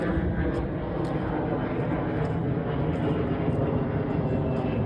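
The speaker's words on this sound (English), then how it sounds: "We got an airplane going by." An airplane passes overhead near a home basketball practice spot, a steady broadband roar filling the whole stretch at constant loudness, with a voice faintly present beneath.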